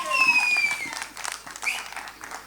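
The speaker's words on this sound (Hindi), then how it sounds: "जोरदार तालियां सनी पाजी के लिए" An audience claps at the JAAT trailer launch event for Sunny Deol, short uneven bursts of applause mixed with whistling and a shrill tone, fairly close and moderately loud.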